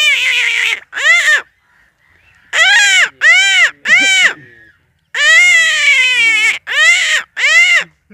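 A human voice imitates a crow, giving loud, close, rasping caws in bursts of two to three calls with short pauses between them.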